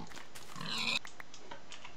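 A piglin grunts once in the Minecraft Nether, a short mid-pitched snorting burst heard close and alone over a quiet game backdrop.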